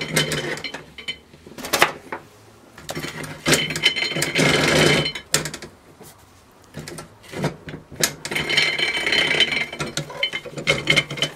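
A hand-cranked black walnut huller strips husks from walnuts with rattling, grinding mechanical clatter in uneven bursts, close and fairly loud, with no talk.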